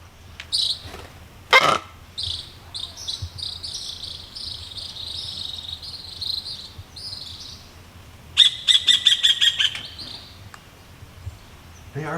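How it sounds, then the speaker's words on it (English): Birds at a Punta Cana resort chirping and calling in short bursts, with a quick rapid series of sharp tweets near the end, over a quiet outdoor background with no talking. "Tell those birds to leave you alone."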